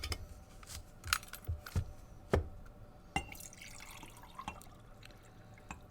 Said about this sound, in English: So this is just another jar that's filled with water. I'm going to pour it into this jar here.